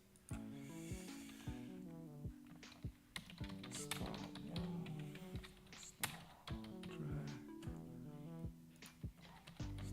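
Typing on a computer keyboard: quiet, irregular clusters of sharp key clicks, faint under louder melodic background music.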